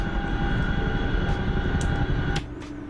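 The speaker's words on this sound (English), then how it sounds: "I'm just going to jump into an Apache and bring a Doppler." An Apache attack helicopter in a video game gives a loud, steady engine drone with a thick low rumble and a whining tone, continuous and close, with a few soft clicks before it drops in level near the end.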